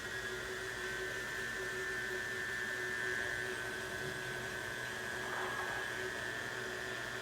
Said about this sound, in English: Going to speed the mixer up just a little bit to get a little more